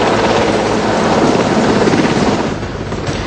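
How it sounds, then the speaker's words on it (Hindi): Helicopter carrying Prime Minister Modi lifts off toward the aircraft carrier INS Vikramaditya, a loud, steady roar of rotor and turbine filling the air close by, easing slightly near the end. "यहां से मोदी इस हेलीकॉप्टर से आईएनएस विक्रमादित्य के लिए निकले।"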